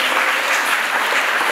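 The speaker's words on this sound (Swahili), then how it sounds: "Tumpe Yesu makofi" A church congregation claps together, a continuous dense wash of applause at moderate level, even throughout with no voices standing out.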